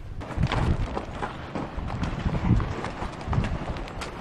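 Horse hooves clop along steadily on volcanic sand while riding toward the Lontué River in Chile's Cajón del Maipo, a dense, fairly close uneven rhythm of footfalls with faint wind in the background.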